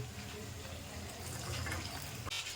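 Rice flour chips fry in hot oil, giving a dense, continuous bubbling and sizzling hiss that stays loud and steady throughout, with no voices over it.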